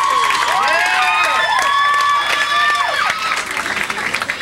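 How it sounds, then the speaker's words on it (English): Audience applause and cheering at a concert at a yacht show on Chelsea Piers, New York: dense, steady clapping with loud whoops and shouted cheers rising over it, close and continuous throughout. "A fine round of applause for two new singers."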